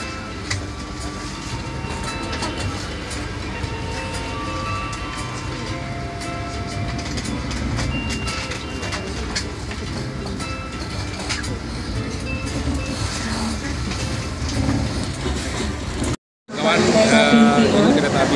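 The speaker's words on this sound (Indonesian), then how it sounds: "Saya sudah berada di dalam kereta api Bima dan sebentar lagi akan berangkat." Inside the Bima passenger train, a steady loud rumble of wheels and carriage fills the space with rhythmic clatter and voices murmuring under it, then a short drop to silence before another burst of noise.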